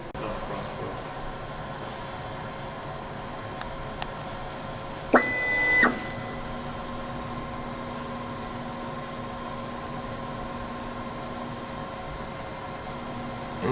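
A Gweike M3 Ultra engraver runs a probe recalibration after a nozzle adjustment. A brief whirring motor sequence of stepping tones lasts about a second over a constant machine hum, followed by a low steady drone.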